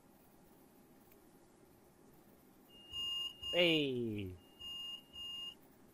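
A steady electronic buzzer tone sounds for a few seconds in the Train Simulator game on the Chatham Main Line from Dover Priory to London Victoria, with a short shout breaking in partway through.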